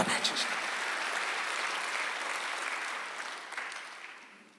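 A church congregation at a Sunday worship service claps together in a steady, dense round of applause. The sound is moderately quiet and slowly tapers off toward the end.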